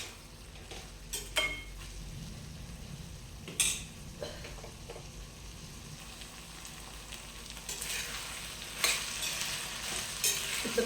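Capsicum frying in a pan for a tomato curry, sizzling steadily while a spoon stirs and scrapes at intervals, with a few sharper clinks of the utensil against the pan.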